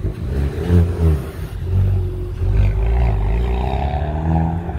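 A Hyundai Veloster N pulling in among a gathering of other Veloster Ns, its engine a loud, steady near rumble with a brief rev swell, no talk over it.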